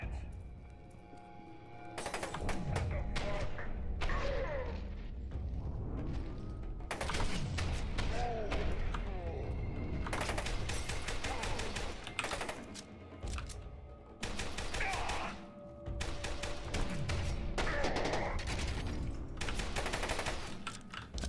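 Gunfire in the first-person shooter FEAR 2, with dense bursts of shots, thuds and clatter that come and go in waves over a busy combat background, loud and near.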